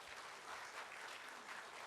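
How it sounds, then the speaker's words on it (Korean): A church congregation gives a steady burst of applause, many hands clapping at once in an even, continuous wash that sounds slightly distant and soft, with no voices. "힘차게 우리 박수하겠습니다"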